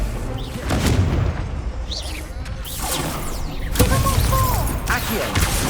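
Booming spell blasts and whooshes from the Confringo explosion spell in Hogwarts Legacy, arriving as several sharp impacts scattered among rumbling game effects and faint voices.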